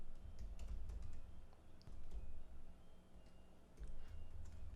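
Code being typed on a computer keyboard, quiet continuous key clicks in uneven bursts, close and faint, with no talking.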